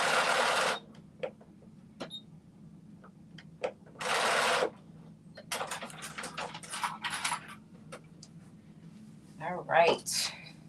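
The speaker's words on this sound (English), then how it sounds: "Do a little back stitch." A sewing machine runs a short back stitch in two brief, loud bursts of rapid mechanical whirring, separated by quiet clicks, handling noises and a person talking nearby.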